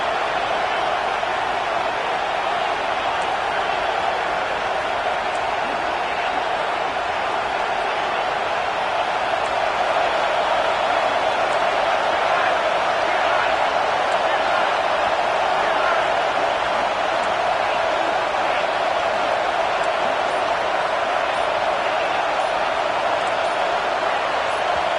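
Steady roar of a large stadium crowd at a BYU Cougars college football game, a continuous loud wash of cheering and noise through a fourth-down play with no break or lull.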